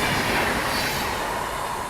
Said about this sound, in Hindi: और भाई साहब ये है मगध एक्सप्रेस इस्लामपुर से न्यू दिल्ली